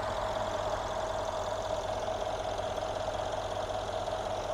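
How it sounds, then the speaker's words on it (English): A 2015 Mercedes GL63 AMG SUV engine idling smoothly and steadily, a constant low hum with a faint mechanical whine, no revving or other sounds. "let's just listen to how smooth this engine idles."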